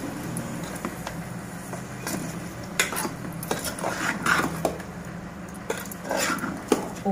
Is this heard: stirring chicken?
yes